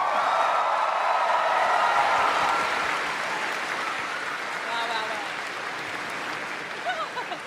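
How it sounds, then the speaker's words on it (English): Large convention audience at Star Wars Celebration 2023 applauding, a loud sustained wash of clapping that peaks early and gradually thins out, with scattered cheers and voices toward the end. "can we please get one more round of applause"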